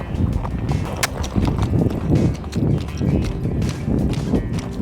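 A horse running on a trail makes hooves pound in a steady, fast rhythm, close and loud, with rustling and a faint voice in the background.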